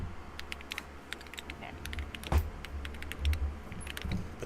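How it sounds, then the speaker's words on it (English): Computer keyboard keys click in scattered bursts of typing, crisp and fairly close, with a few louder taps and a low background rumble under a quiet room. "Whoever's keys are clicking"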